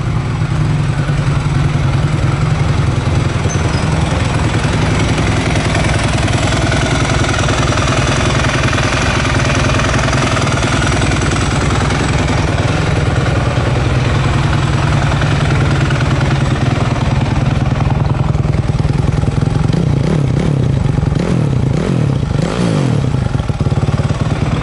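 A four-stroke motorcycle bought from a viewer runs steadily during a test, its engine a loud, close, rough rattling drone that holds even throughout and picks up a few uneven revving surges near the end, with no talking.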